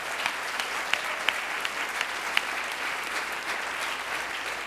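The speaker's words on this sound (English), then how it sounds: "Let's give him a round of applause." A round of applause from the audience at a school senior class dinner, dense steady clapping from many people throughout, with a few sharper individual claps standing out.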